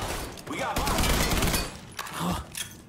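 Rapid bursts of gunfire from Mafia 3 gameplay crackle densely through the first half, then return in shorter volleys, loud and close, with players shouting over the shooting.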